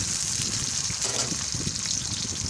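Onion dropped into hot oil in a wok for okra frying, a continuous loud sizzle and hiss running throughout, close by with no talk.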